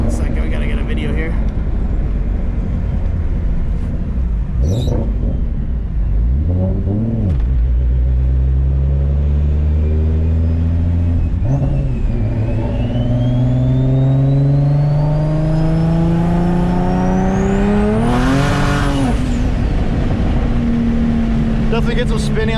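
Boosted Nissan with a VQ engine revving hard, its engine note climbing and falling through repeated pulls as the wheels spin, loud and close, with some talk over it.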